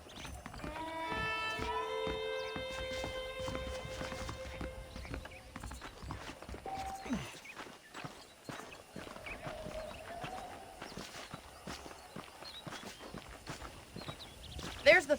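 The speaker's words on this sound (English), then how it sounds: "The horses are saddled up over here." Horse hooves clip-clop in a steady walking rhythm in the video game Red Dead Redemption, with a neigh and a sustained musical chord at the start and a voice speaking over it.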